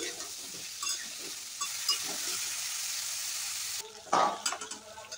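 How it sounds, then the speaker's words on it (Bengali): Cauliflower and potato pieces frying in mustard oil over a high flame make a steady sizzle, with intermittent stirring scrapes and a louder clatter of stirring near the end. "এবার আমি সবজিগুলো ভেজে নেব।"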